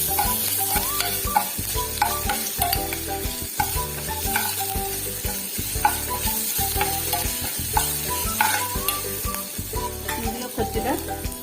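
Ginger-chilli paste, cumin and curry leaves frying in a pan, a constant sizzle broken by regular scraping strokes of a stirring spoon against the metal, moderately loud and close.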